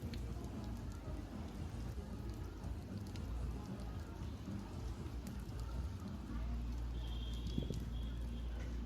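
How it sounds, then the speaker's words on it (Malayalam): Light rain falls steadily outdoors near a grape garden in Theni, a soft continuous patter with a low rumbling undertone throughout. "നല്ലപോലെ മഴ ചാറുന്നുണ്ട്."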